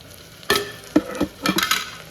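Ground spices, including chivda masala, pav bhaji masala, homemade red chilli powder and turmeric, are stirred in a hot pan with a spoon. Several sharp scraping strokes come up close over a soft, continuous sizzle.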